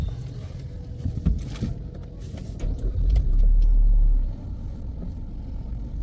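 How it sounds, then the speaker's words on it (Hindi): A car engine starting: a brief cranking stir, then a low rumbling surge that swells for about a second before settling into a steady idle, heard close and alone. "I am going turn on the car now"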